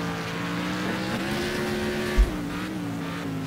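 Race car engine in the racing video game Next Car Game, a steady sustained drone with gently rising and falling pitch and a brief low thump partway through, mid-level and continuous.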